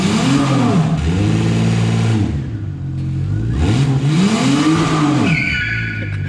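A Toyota Camry engine, a 1MZ-FE V6, is revved hard several times in a garage, each rise and fall of the engine note clearly audible up close, with a brief lull between the revs.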